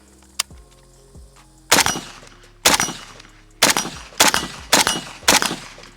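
A Pioneer Arms 556 Sporter AK rifle, its barrel hot from sustained firing, lets off six loud, sharp shots at uneven intervals. A lighter metallic clink comes just before the first shot.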